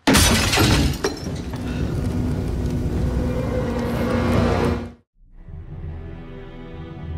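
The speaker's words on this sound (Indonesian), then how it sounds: "Tiba-tiba ada yang melempar kaca jendela." Window glass shatters loudly after something is thrown through it, a sharp crash and a long spray of breaking shards, then a sudden drop to a quieter low rumble.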